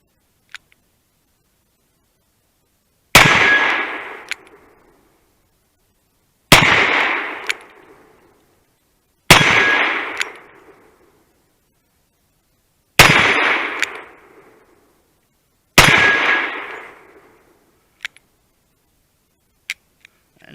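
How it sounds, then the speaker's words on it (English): Five loud revolver shots, 125 grain jacketed hollow point loads, fired at steel targets outdoors, each sharp blast spaced a few seconds apart with a decaying echo, followed by faint distant clicks. "And now we'll do 5 shots on steel."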